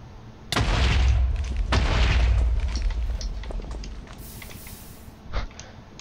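Minecraft TNT blocks detonate in two loud, deep booms about a second apart, each rumbling away, followed by a smaller thud near the end.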